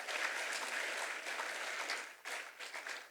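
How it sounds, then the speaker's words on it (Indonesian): A crowd applauding steadily at a graduation ceremony, a dense wash of clapping from many hands that dips briefly near the end. "Tepuk tangan dulu."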